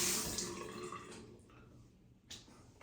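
Tap water running into a sink while rinsing a razor between shaving passes, a faint splashing trickle that fades, then a brief renewed burst near the end.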